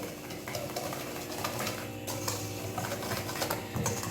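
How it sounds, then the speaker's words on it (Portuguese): Eggs and sugar whisked by hand in a bowl, a faint rapid clicking and scraping of the whisk against the bowl, steady and continuous with no talk. "a gente vai quebrar os 3 ovos num bowl, pegar o açúcar, juntar tudo aqui e aí a gente vai misturar com um fouet"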